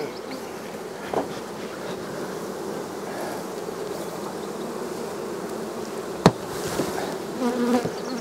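Honey bees swarm around hive supers during a sourwood honey flow, a dense continuous buzzing close by, with a sharp knock partway through and a few faint handling noises, no talk.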